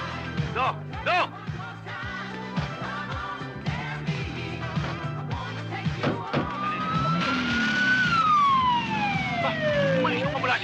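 An ambulance siren wails and sweeps, rising loud and near before gliding down, amid a chaotic scene with people shouting and talking over it.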